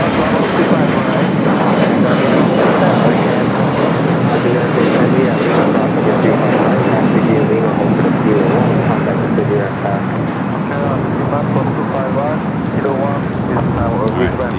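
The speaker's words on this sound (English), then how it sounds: "the Dreamliner now allowed to cross over 25 right" A Boeing 787 Dreamliner taxis across runway 25 right at LAX, its engines a steady, loud, broadband roar that fills the whole stretch without pause.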